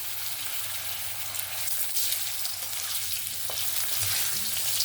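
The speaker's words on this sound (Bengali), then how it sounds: "আলুটাকে একটু ভেজে তুলে নেব" Long strips of potato fry in oil for a spicy fish curry, giving a steady, even sizzle and crackle that runs the whole time with no talking.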